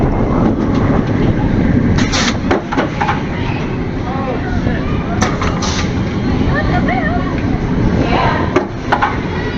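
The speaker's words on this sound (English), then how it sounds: "I found a video of the train coming back in" A Banshee roller coaster train, a B&M coaster at Kings Island, rolls back into the station with steady rumbling and rattling, scattered clanks and squeals over constant noise, while voices talk underneath.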